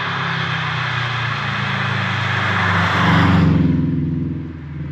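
A Subaru Impreza WRX (GF8) estate with all-wheel drive cruises on the road, its engine holding a steady loud drone with a brief swell of revs near the end, heard from inside the car without speech.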